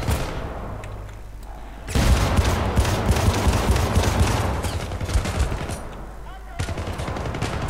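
Dense automatic gunfire and explosions crackle through a German Let's Play of the video game Syndicate, bursting loudly from about two seconds in after a quieter stretch, with a brief lull near the end before firing resumes.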